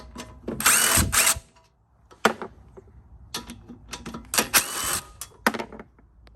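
Power tool and ratchet removing 3/8 inch bolts holding the recoil on a Toro mower, close bursts of whirring and clicking spaced by short pauses, several separate runs.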